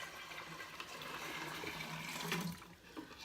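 Water pours steadily from a pitcher into a container while homemade liquid laundry detergent is being mixed, a continuous splashing flow of moderate loudness that thins out near the end.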